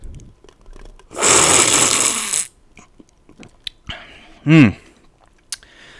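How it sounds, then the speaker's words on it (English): Loud, crunchy chewing of ice cubes from a glass of milk on the rocks, close to the mouth, with a long crunching burst, scattered clicks, a short vocal groan and breaths around it. "enjoy me chewing on this milk on the rocks"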